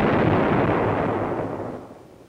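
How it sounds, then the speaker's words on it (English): A hot water tank ruptures as superheated water reaches 300 degrees, giving a loud, close blast whose broad roar fades over a couple of seconds with no voices. "And the engineers almost got a steam bath from this explosion."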